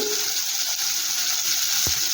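Constant crackling sizzle of chopped onion frying in tempering oil over medium heat, with one brief low thump near the end.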